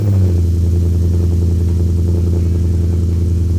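A 1970 Ford F250 truck with an X-pipe exhaust runs close by, a loud deep steady burble with a faint rhythmic pulse, holding a constant idle-like tone throughout.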